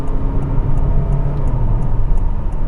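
Steady engine and road drone from inside a Honda HR-V with a CVT gearbox, accelerating past a pickup truck, a loud continuous low rumble with faint repeating ticks and no voices.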